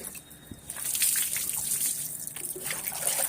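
Water poured and splashing over a child being bathed with soap, a steady trickling gush running close by with light splashes throughout.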